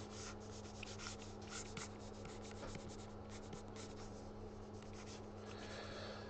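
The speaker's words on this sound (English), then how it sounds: "The pen sounds a bit scratchy." A stylus scrapes steadily across the textured screen film of a Wacom Cintiq 16 pen display during drawing, giving a soft, continuous scratchy rubbing with short stroke bursts, quiet and close.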